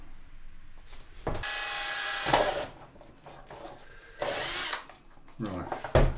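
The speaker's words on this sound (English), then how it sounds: "I'm going to put it in the drill" A power drill whirs in two short bursts of a couple of seconds each, close and loud, with quieter clicks and a brief rising whine between.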